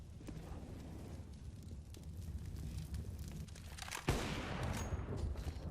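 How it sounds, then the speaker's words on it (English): A Counter-Strike match between Heroic and Entropiq at the PGL Major Stockholm 2021 fills with rapid gunfire as a player tries to shoot through a wall. Dense, crackling shots run throughout, with a sharper, louder burst partway through. "Nice wallbang attempt from Elian."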